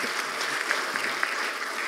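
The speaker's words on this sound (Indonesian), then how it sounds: "Tepuk tangan dulu dong." Brief audience applause at an academic Q&A session with IPB professors, a steady wash of many hands clapping at moderate distance for under two seconds, with no voices over it.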